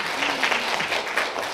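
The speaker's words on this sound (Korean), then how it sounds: "네, 박수 한번." Audience applause at a film week talk with a director and writer, sustained clapping from a crowd in a hall, steady and moderately loud throughout.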